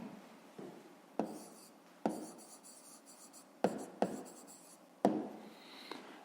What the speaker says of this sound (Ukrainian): Зараз записуємо відповідь.